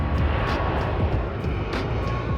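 A jet aircraft departing Ted Stevens International Airport in Anchorage roars as a steady, broadband distant rumble, heard from a coastal trail viewpoint with no talking.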